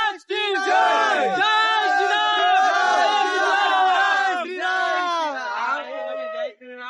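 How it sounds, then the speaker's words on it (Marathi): A crowd at the Raiba Devi temple fair chants and yells in unison, loud and close, a dense wall of voices rising and falling together for several seconds before briefly breaking off. "मित्रांनो कशा प्रकारे जल्लोष चालू आहे बघा"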